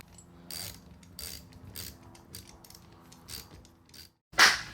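A ratchet tightens a bolt on a Honda GX200–GX390 small-engine carburetor during a rebuild, making close, quiet bursts of rapid clicking, then a brief pause and one sharper, louder clack at the end.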